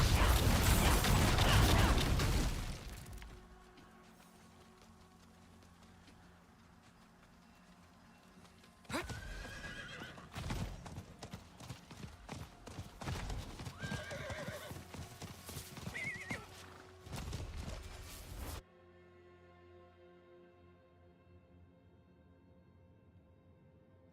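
Horses in the Diablo IV video game, a loud burst of noise at the start giving way to rhythmic clip-clop hooves, mechanical creaks and a couple of neighs, then a fade to quiet ambience.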